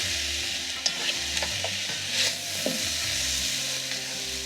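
Onions and very hot green chillies sautéing in a pan for a Kuttanadan-style Kerala duck curry: a steady close sizzle with occasional spoon stirs and scrapes, no talking.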